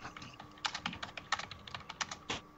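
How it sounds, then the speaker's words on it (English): Fingers tap on a computer keyboard in a quick, uneven run of crisp clicks, close but quiet, with no voices. "Just hear typing. That's all you hear."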